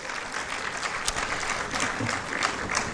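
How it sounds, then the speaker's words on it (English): A crowd of delegates at a Uganda–Kenya coast tourism conference gives dense, sustained applause that fills the room evenly for its whole length. "can we give them a big round of applause for hosting us?"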